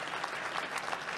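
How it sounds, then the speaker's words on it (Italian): Audience applause for Walter Ucchedu, a Sardinian cyclist, at a cycling awards ceremony: a steady, dense burst of clapping from a crowd, fairly distant and even throughout. "Walter Ucchedu, un applauso perché veramente lo merita"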